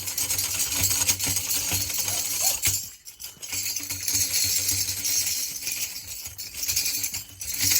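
Continuous bright metallic jingling from a tambourine shaken near a horse, loud and close, with a short pause near the middle before the rattling resumes.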